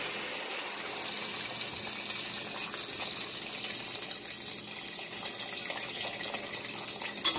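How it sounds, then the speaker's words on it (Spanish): Water pouring into a pot for cabbage soup, a steady close splashing gush that builds slightly in intensity as the pot fills, with no talking. "ahora vamos a agregarle el agua."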